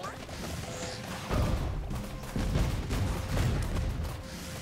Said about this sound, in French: C'est encore moi qui me fait tirer dessus.